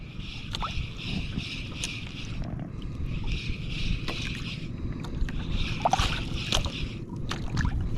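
Water sloshes and slaps against a small fishing boat's hull, which sits broadside to the waves, under steady low rumble and wind, with occasional knocks as it rocks.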